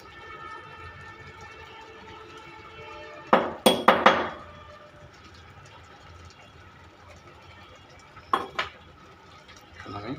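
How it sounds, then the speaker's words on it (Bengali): A spoon scrapes and knocks against a pan while spices are stirred into mango pickle, giving a few sharp clanks in a quick burst and then a later pair of knocks over a low, steady kitchen hum. "মশলাগুলো দিয়ে নেড়ে দেব"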